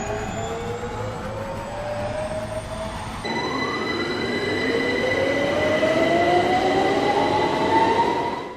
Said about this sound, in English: the Rimac sounds, well, like a London Underground train